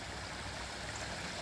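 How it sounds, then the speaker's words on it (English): Spring creek water cascading down small waterfalls gives a steady, even rush and gurgle, close and continuous, with no voices. "get these little waterfalls and the water cascading down"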